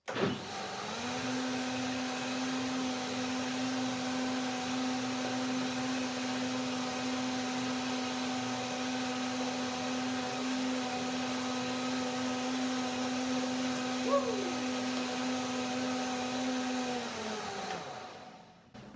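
A blender blending a basil blueberry smoothie runs steadily for a long stretch with a constant whirring motor drone, then winds down at the end.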